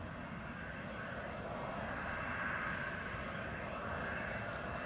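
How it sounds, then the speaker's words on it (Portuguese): Steady, fairly faint roar of an Airbus A320neo (A320-251N) jet engine at an airport gate while passengers board for Maceió, a continuous broadband hum with no breaks and no talk. "Daqui a pouco o avião vai sair."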